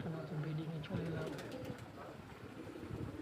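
Pigeons coo softly in repeated low calls against a noisy outdoor background, with faint voices in the distance.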